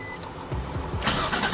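An Infiniti G35 coupe with a new starter cranks briefly and catches, the engine firing up close by in a short burst that settles into a running hum.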